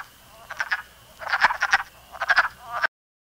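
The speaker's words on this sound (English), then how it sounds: "People sometimes mistake this for ducks, but it's actually male wood frogs chorusing." Male wood frogs chorus in bursts of clucking, duck-like croaks, three clustered groups of rapid calls, moderately near and clear against a quiet background, ending abruptly.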